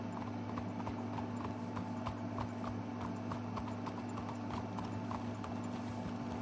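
Horse hooves clip-clop steadily in the Red Dead Redemption 2 video game, a continuous rhythmic trotting over a low droning background hum, with no talking.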